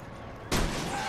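A single gunshot in the video game Tales from the Borderlands: a sudden loud blast after a brief quiet stretch, followed by a sustained noisy rumble that fills the rest of the moment.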